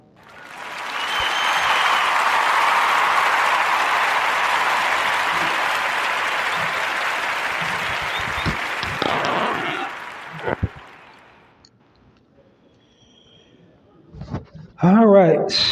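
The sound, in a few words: audience applause for Kevin Powell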